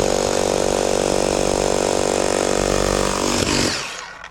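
A Bosch SDS Max drill boring into a concrete block, a loud, steady, high-pitched motor whine with grinding that holds for over three seconds and then winds down to silence.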